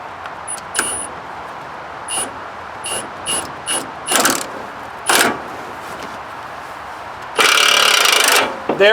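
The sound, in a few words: pitman arm puller working on a Duramax steering pitman arm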